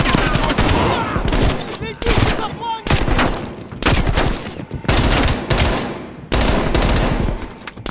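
Heavy, rapid shotgun blasts in Call of Duty: Black Ops Cold War come in dense, loud bursts with brief gaps. A voice is heard faintly under the firing.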